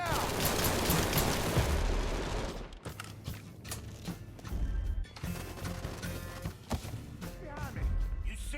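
Gunfire in the video game Mafia III. Dense, loud shooting fills the first few seconds, then scattered sharp shots and impacts follow, with shouted voices and game sounds mixed in.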